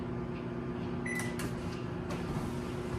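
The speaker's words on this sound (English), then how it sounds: "Melt some butter using the microwave" A microwave oven melting butter hums steadily, with a few clicks and clunks and a short electronic beep as it runs, close and moderately quiet, with no voices.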